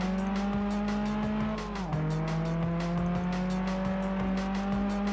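A car drifts in the PS2 racing game Test Drive Unlimited, its engine droning steadily as the tires squeal in a sustained tone that dips and shifts pitch midway, loud and continuous with no talk.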